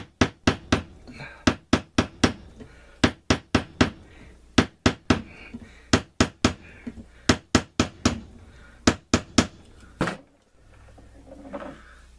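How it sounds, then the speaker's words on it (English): Steady series of sharp hammer blows cold-forming the end of a rivet on a custom Tramontina knife sheath, about two strikes per second, close and loud, stopping near the end with faint handling noise. "we are basically cold forming the end of this rivet"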